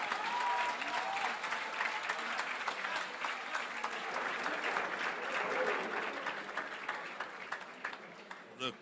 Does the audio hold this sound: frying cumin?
no